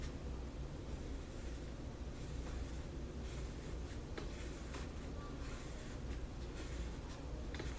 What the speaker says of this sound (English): I'm going to just try to draw some lines in.